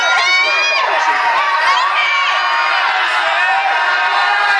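Audience screaming and cheering loudly and without pause at an elderly group dance performance, a dense wall of raised voices with little distinct clapping.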